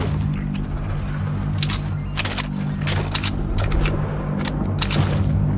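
Suppressed SCAR rifle in Fortnite fired in several short muffled bursts, a few quick shots each, over a steady low in-game drone with no talk.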